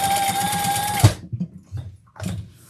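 A sewing machine basts a handbag side seam in a steady loud whir that stops after about a second, followed by a few soft handling bumps and knocks.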